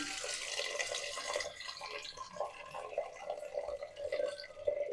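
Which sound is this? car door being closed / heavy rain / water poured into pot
water poured into pot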